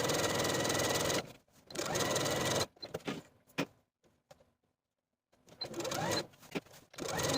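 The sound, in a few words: sewing machine stitching a dress seam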